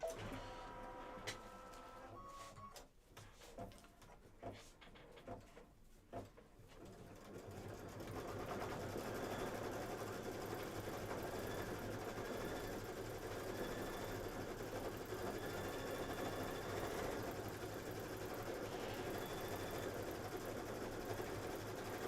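A computerized embroidery sewing machine stitching a Kimberbell Save the Date July 4th panel, starting with a few clicks and stutters, then settling into a rapid steady whirring hum that runs continuously and evenly, close by.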